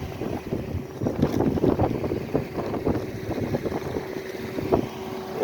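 Heavy wind gusts along a city street on Dorchester Avenue, buffeting the microphone with a rumbling, fluttering roar that swells and eases over a low steady drone, with no voices.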